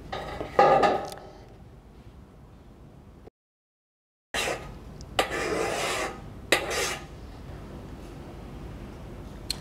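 Scraping and rubbing against the painted coating of a Colorbond metal roof in Sydney, heard as short harsh rasping strokes, one loud burst early then a gap of near silence followed by several more scratchy passes, no talk.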